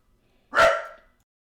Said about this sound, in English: I got a barking dog back there